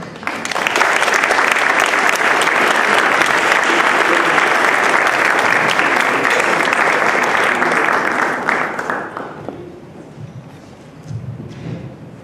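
An audience at a forum gives sustained, loud applause for ten Ambassador Corps interns, dense clapping lasting about nine seconds before fading out, followed by a few scattered claps and faint room noise.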